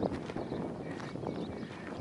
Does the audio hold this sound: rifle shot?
no